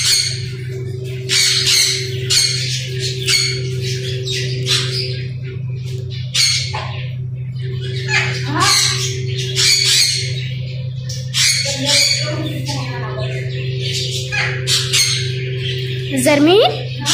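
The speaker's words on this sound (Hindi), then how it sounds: "जरमीन, आपने चिड़िया देखी है? ये कितनी प्यारी है ना।" Pet birds squawk repeatedly while being fed, with loud, sharp bursts coming in irregular clusters close to the listener over a steady low electrical hum.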